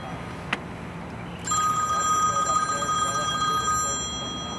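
A mobile phone rings after a soft click, its steady electronic ringtone sounding close and persistent for a few seconds before stopping.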